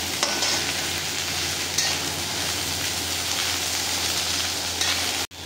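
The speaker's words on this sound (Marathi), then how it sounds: "आता त्यामध्ये आपण कट केलेली भेंडी व्यवस्थित आपल्याला ती सर्व बाजूने व्यवस्थित भाजून घ्यायची आहे" Cut okra frying in a pan, a dense unbroken sizzle held close and steady for several seconds before cutting off abruptly.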